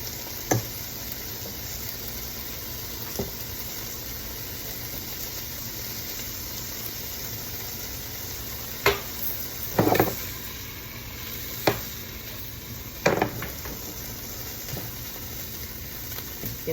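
Butter sizzles in a frying pan while breakfast eggs are being cooked, making a steady close hiss throughout, with scattered sharp clicks and scrapes from a utensil stirring it around.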